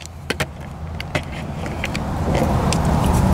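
A person climbs into a 2022 Chevy Trail Boss pickup with a 6.2L engine. A few sharp clicks and knocks from the door and keys come first, then a low, steady rumble that grows gradually louder.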